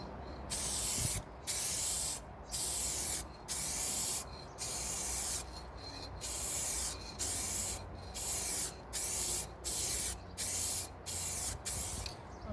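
A spray gun lays a dust coat of paint on a Daihatsu Materia car panel in a DIY smart repair, hissing in about fourteen short, even bursts with brief pauses between passes.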